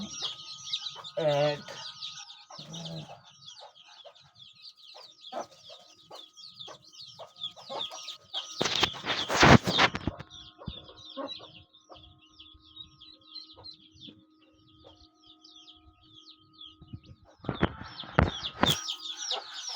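Native Bangladeshi chickens cluck and chatter on a poultry farm, with a rooster-like call early on and bursts of louder flapping or scuffling in the middle and near the end.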